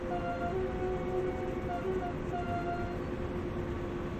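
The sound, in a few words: train horn honking in Train Sim World video game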